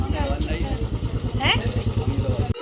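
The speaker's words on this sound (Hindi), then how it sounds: "लग रहा है कमल बाइक बुलेट लेके आ रहा है वापस" Bullet motorcycle arriving: a steady thumping single-cylinder engine rumble, close and loud, with people talking over it.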